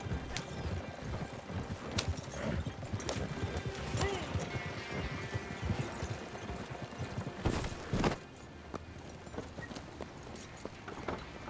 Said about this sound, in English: Stop the wagon just ahead.